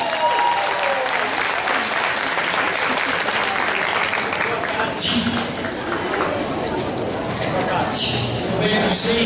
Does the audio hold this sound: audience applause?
yes